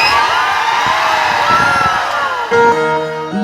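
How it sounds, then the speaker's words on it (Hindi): A large outdoor crowd at a Bhojpuri orchestra concert shouts and cheers loudly and continuously, roaring under amplified music with a sustained tonal note toward the end. "यदि आप लोग का आवाज है ना और आप लोग सच में दिल से पप्पू जी को मानते हैं तो जोरदार चिल्ला करके सभी लोग"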